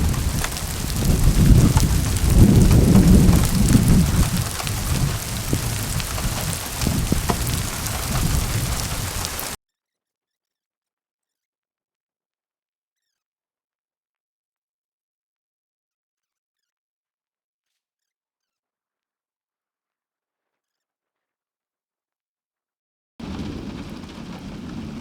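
Thunder rumbles through a severe storm in the Southern Tablelands as rain falls, a deep rolling roar over steady rain and wind for several seconds, then a long silent gap before the rain sound briefly returns.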